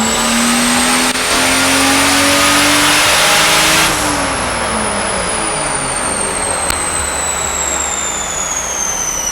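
A 2JZ-engined Toyota Supra roars loud and steady under load on a dynamometer, its pitch climbing through a sustained pull before easing, with no speech over it.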